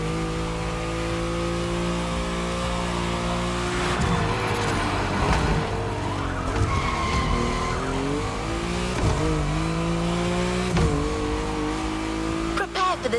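Mustang Boss 429 muscle car in The Crew Motorfest, a steady deep engine drone with shifting revs and bursts of tire skidding, loud and continuous throughout, with speech faintly present.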